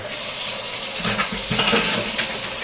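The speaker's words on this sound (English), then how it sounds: "So I'm going to get some warm water." Warm water pours steadily from a tap, a continuous broadband splashing rush with slight surges, close and fairly loud.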